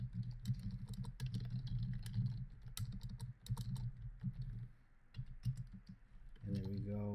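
Quick runs of keystrokes rattle on a computer keyboard as words are typed into a Tableau parameter, the clicks close and steady at low level, with a voice speaking briefly near the end.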